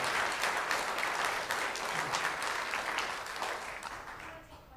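A crowd gives a sustained round of applause at a talk, a dense wash of clapping that holds steady and then tapers off toward the end.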